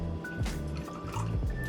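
A splash of ginger ale poured into a cocktail, with a short burst of liquid trickling and dripping close by and no talking.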